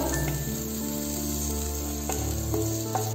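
Cabbage half-frying in oil in a pan while chicken chowmein is made, a steady close sizzle with light utensil clinks and stirring.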